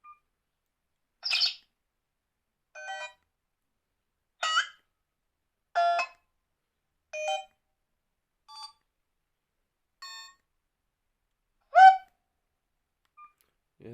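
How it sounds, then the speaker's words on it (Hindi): Message tones play from a Vgotel iDisco phone: a series of short, bright electronic beeps and chirps, each one separate, spaced about a second or two apart against silence. "मैसेज के टून्स को चेक करते हैं।"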